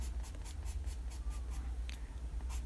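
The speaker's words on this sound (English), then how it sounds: "I'm pushing really hard on my pencil to create darker hair strands." Graphite pencil pressed hard on paper while drawing dark hair strands, a series of quiet rhythmic scratching strokes, close and faint over a low background hum.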